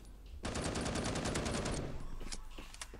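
Gunfire in the shooter video game Bullet Force, a rapid automatic burst of sharp shots that fades into a few scattered distant shots.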